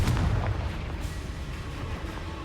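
Blasting curse explosion in Hogwarts Legacy, a deep booming blast at the start that trails off into a rumbling, crackling tail, fairly loud and alone.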